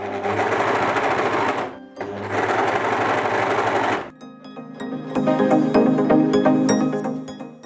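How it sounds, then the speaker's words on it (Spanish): An overlock serger sews two fabrics together in loud, close, rapid bursts of stitching, with a short stop after the first run, a brief pause around the fourth second, then a longer steady run. "voy a coser las dos telas con la overlock"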